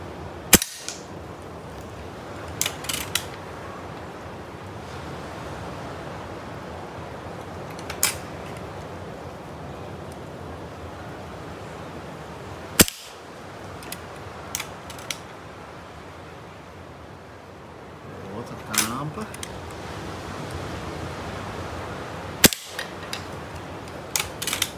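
Shots from a vintage 1980 Rossi Dione air rifle: about four sharp, separate cracks spread across roughly 25 seconds, each with quick mechanical clicks and creaks nearby, over a steady low outdoor background with no talking.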